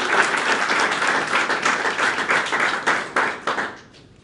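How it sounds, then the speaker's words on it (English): An internet summit audience gives a round of applause, loud and dense at first, then thinning into scattered claps before fading out. "So a big round of applause and thank you for Diane and Brian for what they shared yesterday."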